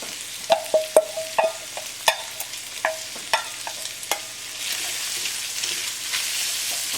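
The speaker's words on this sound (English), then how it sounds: "now I'm going to add the onions and garlic to this and saute it down" Onions and garlic sauté in a pan for a pork and apple pie filling, a soft steady sizzle punctuated by a series of close, sharp clinks and taps of a spoon stirring against the pan.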